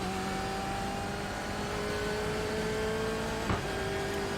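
A BMW M8 in the iRacing simulator accelerates along a straight at Brands Hatch, its engine drone rising steadily in pitch as it climbs through the revs, with a short tick of a gear change near the end.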